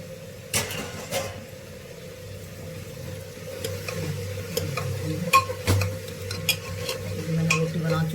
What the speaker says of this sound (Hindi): भाई मैंने सब्जी को छोंक दिया है